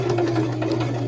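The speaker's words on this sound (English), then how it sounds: "we're just going to sew back and fix this" A sewing machine stitches fabric for a rag bag in a brief, steady mechanical whir heard close and alone.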